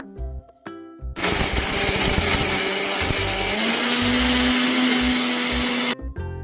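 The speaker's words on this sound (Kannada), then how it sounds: "ಇವಾಗ ಇದನ್ನ ಮಿಕ್ಸಿ ಮಾಡಬೇಕಾಗುತ್ತೆ." A mixer grinder blends onion and salt, running as a loud, steady, high whirring roar for about five seconds, with brief clattering pulses before it starts and after it stops, no talking.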